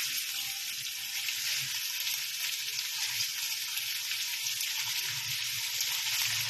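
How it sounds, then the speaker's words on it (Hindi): Chicken fries in hot oil with a loud, dense, unbroken sizzle that holds steady and close throughout, with no voices. "हमने ऑयल गरम कर लिया है। अब हम इसमें डालते हैं चिकन।"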